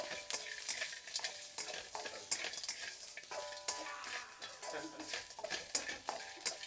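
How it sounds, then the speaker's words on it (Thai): Garlic and crispy pork are stir-fried in a pan, with a continuous sizzle broken by frequent scraping and clicking strokes of a utensil against the metal, close and busy. "ใส่กระเทียม ใส่หมูลงไป"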